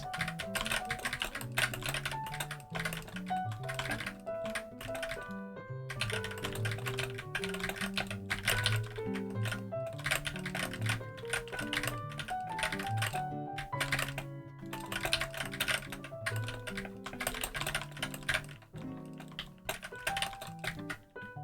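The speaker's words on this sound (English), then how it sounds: "Do you guys get annoyed by keyboard sounds, or do you guys like them? Do you like the clicky clacks?" Clicky computer keyboard typing as a rapid, steady run of close clacks that continues for the whole stretch, layered over tonal background music.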